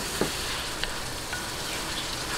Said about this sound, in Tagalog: Atin na sili ay atin na pong ilagay para po siyempre kumalab talaga yung anghang